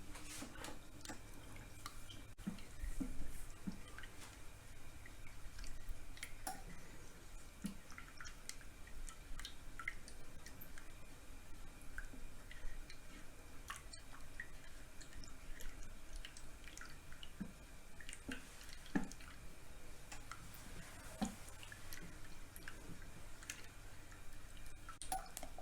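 Glutinous rice flour and water paste is stirred quickly in a saucepan, giving faint, steady scraping and light tapping against the pan, close by and quiet, with no voices.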